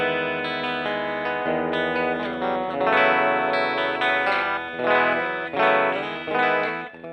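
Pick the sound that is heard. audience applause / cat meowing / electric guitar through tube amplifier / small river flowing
electric guitar through tube amplifier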